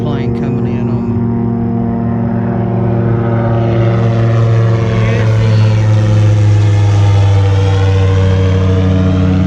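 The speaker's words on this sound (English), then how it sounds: "Sound like an airplane coming in on me." A propeller airplane drones loudly overhead at a fishing spot, a steady strong engine roar with rising and falling pitch that swells and holds throughout.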